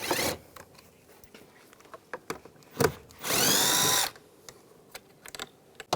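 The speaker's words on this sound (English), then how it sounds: "We're going to take those out with a 7mm socket" Rear exterior door handle bolts on a 2015-2020 Cadillac Escalade are turned out with a 7mm socket. A few sharp clicks and taps lead to one loud whirring burst of about a second from a power driver, and light clatter follows.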